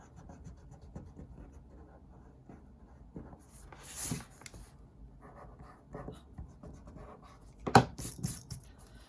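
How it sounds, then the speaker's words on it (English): Pencil lines being erased from paper while drawing SpongeBob SquarePants: soft, intermittent scrubbing and rubbing strokes, mostly quiet with a few sharper bursts, close by and heard alone. "I want to erase these lines so you're not confused"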